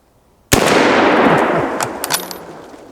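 A single loud, close rifle shot at a target-shooting range, a sharp crack followed by a long rolling echo, with a faint metallic ping from a hit target as the echo fades.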